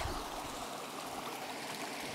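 Steady broadband rush of spring water flowing continuously nearby, with no voices.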